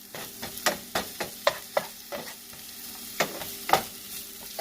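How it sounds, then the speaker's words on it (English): Onion toasting in a little oil in a pan for an egg burrito, with a rapid, regular run of spatula scrapes and taps over a light sizzle, close and clear, no voices. "Toast your onion for like 60 seconds."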